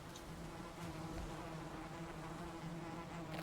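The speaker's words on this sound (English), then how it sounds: "Oh shit! Bees!" Bees buzz steadily in the survival video game Valheim, a close, continuous droning hum with no talking over it.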